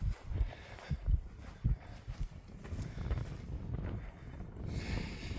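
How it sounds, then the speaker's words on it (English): Gusty wind buffets a nearby microphone in low rumbling bursts outdoors by an observation deck in Iowa, uneven and blustery, with no clear speech. "It's kind of windy out here"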